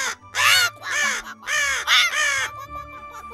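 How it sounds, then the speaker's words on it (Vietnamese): A crow in an animated fairy-tale film caws five times in quick succession, loud and close, each harsh call clearly separated, followed by a quieter tail of ambient sound. "Lại là tiếng con quạ xấu xí."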